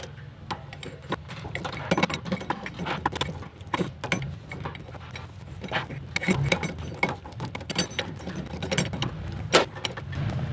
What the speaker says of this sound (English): I'm gonna grab my wrench now and walk it the rest of the way.